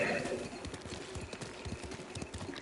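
Horse hooves clip-clop in a video game, a faint, rapid run of soft, regular steps that carry on steadily throughout.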